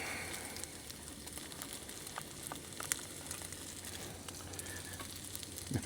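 Bacon frying in a cast iron pan while truck camping gives a steady, close crackling sizzle with small pops throughout, no talk over it.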